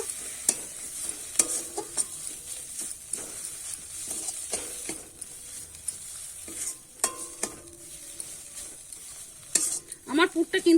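Drumstick flower filling frying with garam masala and chopped coriander, stirred with repeated clicking spatula strokes over a steady sizzle, close and continuous, with a rapid flurry of scraping at the end.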